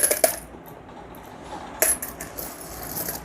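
Old Indian coins, including aluminium 50-paise, 10-paise and 2-paise pieces, clinking and dropping: a few sharp metallic jingles at the start, another bright cluster near the middle, then lighter scattered clinks over quiet background.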